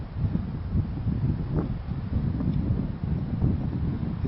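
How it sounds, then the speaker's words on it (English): Wind on a snowy mountain ridge in winter, a steady loud rumbling gust buffeting the microphone with low roaring noise throughout and no voices. "It's windier on the ridge"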